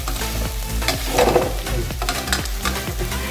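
Beef for menudo stirred in a sizzling frying pan, a spatula scraping in repeated rhythmic strokes over a steady close fry hiss.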